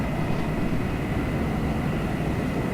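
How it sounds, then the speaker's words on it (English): Another plane flying past in a flight game, heard as a steady, fairly faint droning engine hum that holds evenly over a few seconds, without talk. "I hear another plane."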